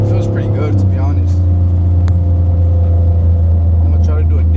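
A Ford F150 truck with a non-boosted engine pulls hard from inside the cab, a loud, steady low drone with a rising whine, close and continuous, without speech.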